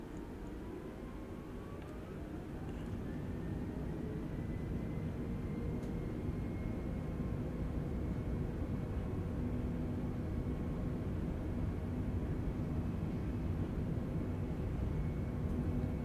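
An Airbus airliner rolls and climbs out of Islamabad, a steady loud jet engine roar that builds over the first seconds and then holds, with a faint rising whine running above it and no talk.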